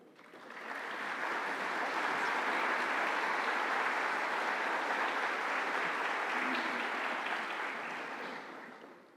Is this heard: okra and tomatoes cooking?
no